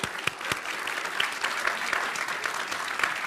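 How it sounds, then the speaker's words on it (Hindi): Steady applause from a crowd, dense and continuous clapping throughout, fairly close and even in loudness. "तालियों के साथ दोनों का बहुत बहुत अभिनंदन।"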